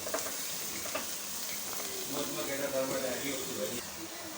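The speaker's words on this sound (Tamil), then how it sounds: "காய்கறிகள் எல்லாத்தையும் குக்கரில் சேர்த்தாச்சு அப்படியே மிக்ஸ் பண்ணி விட்டுப்போம்" Vegetables are stirred in a pressure cooker with faint scraping and a soft sizzle, while a person talks throughout.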